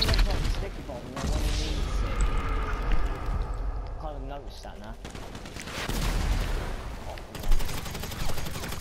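Gunfire from a special carbine in a multiplayer shooter, bursts of shots running through the scene with a sharp louder crack near the end, mixed under talk and game noise.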